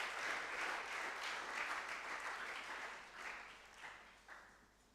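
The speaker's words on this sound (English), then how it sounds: "Please, another round of applause." Audience applause at a secondary school debate competition, a sustained patter of many hands that gradually fades and thins toward the end.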